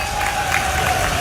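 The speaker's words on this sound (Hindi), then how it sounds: "आपने ताली बजा के आनंद लिया है।" Dense applause from a large crowd at an outdoor political rally in Indore, a steady continuous clatter of clapping held at an even level for the whole short stretch, with no voices over it.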